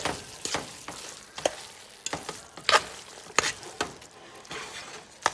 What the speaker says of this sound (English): So give that another stir. Let it mix into the spaghetti and the sauce.